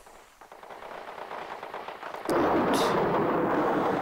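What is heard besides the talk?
gunfire in the video game Steins;Gate 0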